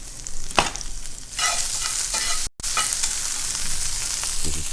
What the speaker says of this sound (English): as the onions are kind of getting cooked